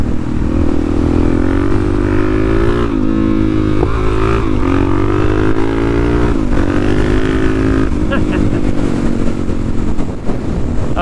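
A motorcycle engine runs close and loud, its pitch rising and falling in steady revs with wind rush over the microphone throughout.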